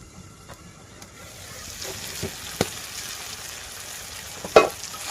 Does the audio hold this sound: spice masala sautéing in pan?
yes